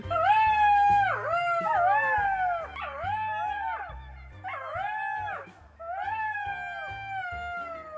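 Several voices imitate jackal howls, rising and falling wails overlapping in long repeated cries with short pauses between, loud and close.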